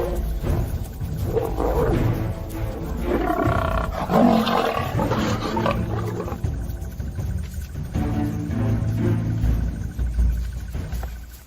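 Lions in the African wild roar at lionesses, with loud, deep, drawn-out roars and throaty growls that rise and fall over several seconds above a low rumble.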